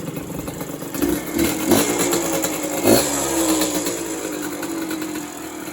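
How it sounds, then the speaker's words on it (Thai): A motorcycle with an aluminium rear wheel and Motorcross-style front forks and rear suspension runs steadily close by, its engine note rising briefly around a couple of moments before settling back to a continuous hum; no one speaks. "ครื่องก็ติดขับได้ปกตินะครับ"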